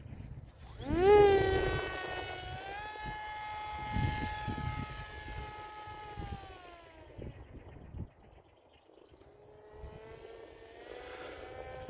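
A radio-controlled autogyro, the Gyroo II, on its maiden flight, passing overhead with a rising then steady whining motor and propeller tone that shifts in pitch as it moves past and then fades, with no talk.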